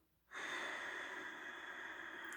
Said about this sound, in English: So you're breathing out through your nose, but there's still a bit of sound.